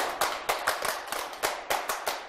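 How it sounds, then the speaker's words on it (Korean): A class of students claps in unison in a rhythmic World Cup pattern, sharp synchronized group claps in repeating bursts at close range, with no talking. "자, 박수는 여러분 월드컵 박수 아시죠?"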